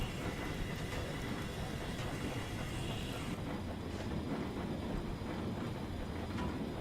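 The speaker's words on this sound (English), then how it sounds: "I started slowing the locomotive down here." A locomotive in the Railworks train simulator slows down, giving a steady rumbling rail noise with faint clicking that holds level and continuous throughout, with no talk.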